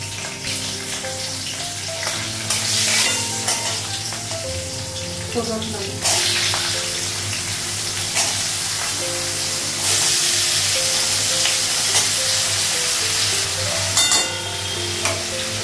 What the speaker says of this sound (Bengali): তেলে হচ্ছে করলাটা ভাজা করবো